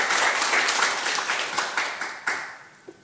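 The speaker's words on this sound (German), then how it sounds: "Ein kleiner Applaus bitte" An audience claps warmly to welcome the manga artist Yuuki Kodama at an artist talk, the dense applause starting strong and thinning out into a few last scattered claps.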